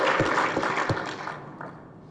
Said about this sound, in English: everyone, give Jerry a round of applause